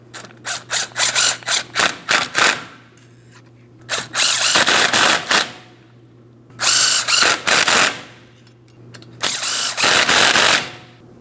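Power tool or impact wrench bursts while tightening brake caliper bolts in a crisscross star pattern on a 2015-2025 Ford Transit: rapid short pulses, then three longer sustained runs, close and loud over a steady hum.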